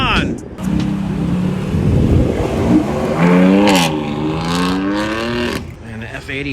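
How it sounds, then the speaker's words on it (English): A car engine revs hard and rises in pitch on a street among a car-meet crowd in Seattle, loud and close, with people talking and shouting over it. "Do a burnout."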